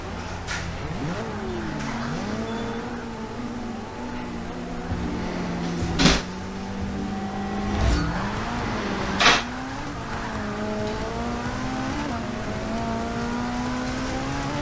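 A Ferrari California T in Forza Motorsport 6 racing around Laguna Seca: a continuous engine drone rising and falling through gear changes, with a few sharp thumps along the way, heard alone and fairly loud.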